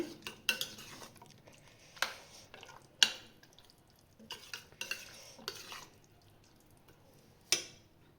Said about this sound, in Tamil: முந்திரி பருப்பு வறுத்ததை இதில் கொட்டியாச்சு. இப்போ இதை நல்லா கிளறி விட்டுக்கலாம்.